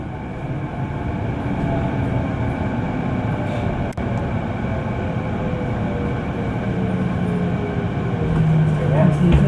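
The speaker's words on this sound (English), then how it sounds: "This train is for Richmond Brighouse." Interior of a SkyTrain car on the Richmond-Brighouse line, with a steady loud rumble and rail hum throughout, a brief click near the middle, rising slightly at the end as the train moves near a station, with an announcement voice over it.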